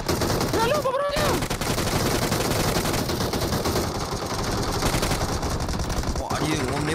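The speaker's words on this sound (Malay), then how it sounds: "Wah, dia orang menembak terus dia." Continuous gunfire rattles in rapid, dense bursts, loud and close, with brief tonal sounds mixed in and no clear speech.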